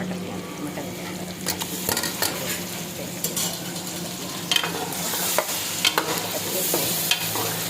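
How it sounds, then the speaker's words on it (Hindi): Mutton frying with masala in a pot on a home stove, a steady sizzle broken by repeated scraping and clinking strokes of a metal spoon stirring, with a brief spoken phrase. "ये देखें तो ये हमारा हो गया है मटन अच्छे से फ्राई"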